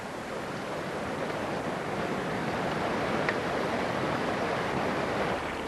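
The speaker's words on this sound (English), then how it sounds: "the stream we're next to right now is basically meltwater from the snowfields and the glaciers" A stream of glacier and snowfield meltwater in Glacier National Park rushes in a steady, dense wash of broadband noise, close and loud, with no voices over it.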